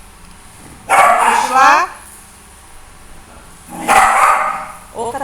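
A dog barks in two loud, close bursts of several rapid barks each, separated by a quiet pause, with a short voice heard near the end.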